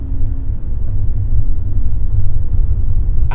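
Suzuki Aerio compact hatchback with manual transmission accelerating in second gear, heard as a steady low engine rumble from inside the cabin, continuous throughout with no talk.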